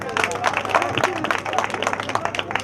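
Audience applause at a Hindi political gathering, a dense stretch of scattered claps running the full length under an ongoing speaker's voice.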